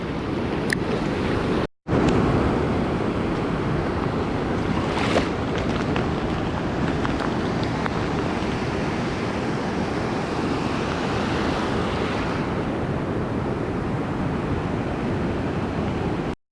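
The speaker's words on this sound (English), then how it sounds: "I see the bigger waves are a little bit closer now" Ocean waves break and wash steadily on a beach while someone fishes from the shore, a continuous roaring surf with heavy wind buffeting the microphone and no talking.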